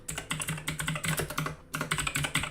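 Rapid, close keystrokes clatter on a computer keyboard in quick uneven bursts, with a short pause midway before typing resumes.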